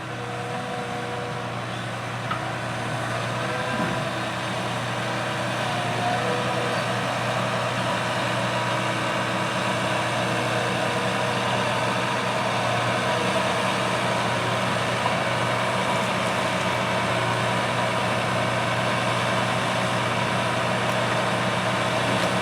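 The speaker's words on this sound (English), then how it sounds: "Here we can see the 8400R and the NutriMax coming up to the truck to be refilled." A John Deere 8400R tractor pulling a 2,600-gallon Unverferth NutriMax applicator gives a steady, loud diesel drone with a low hum as it rolls up to a refill truck outdoors, holding constant throughout with no talking.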